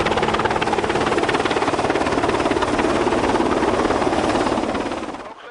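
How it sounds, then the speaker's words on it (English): A helicopter hovers close and loud, its rotor thudding in a steady rapid rhythm under a constant engine roar, easing slightly at the very end. "for when a helicopter is close, it's difficult to communicate"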